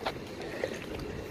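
A boat passes in front of the camera, heard as a steady, fairly faint wash of broadband noise that holds level for about a second and a half, with no voices.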